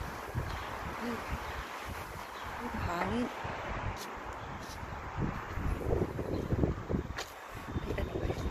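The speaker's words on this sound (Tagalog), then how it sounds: "May mahangin dito, parang uulan." Gusty wind buffeting the microphone on a rooftop before rain, with rustling and low rumbles and a few faint voices in the background.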